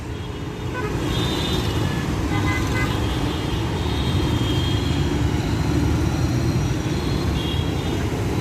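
Steady roar of vehicles and traffic on MG Road in Bengaluru, a continuous close rumble of engines with a few faint horn toots rising above it throughout.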